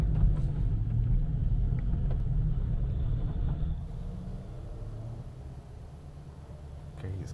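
A modified VW Golf 8 GTI pulls away with its traction control set one level down, a steady low engine rumble that eases off midway as the car moves away.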